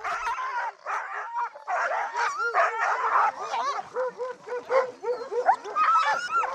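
A pack of excited sled dogs being harnessed for a sled ride in the Canadian Rockies barks, yips and whines in a continuous overlapping chorus, close and lively.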